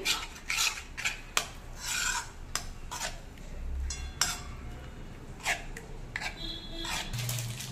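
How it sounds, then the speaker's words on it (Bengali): A spice marinade for tandoori chicken is mixed in a bowl, giving repeated scraping, rasping strokes and occasional clinks of a utensil against the dish at a close, irregular rhythm. "ভালো করে মিশিয়ে নিচ্ছি।"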